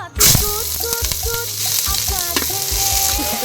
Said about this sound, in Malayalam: നെക്സ്റ്റ് ഞങ്ങൾ സവാള ആഡ് ചെയ്യുന്നു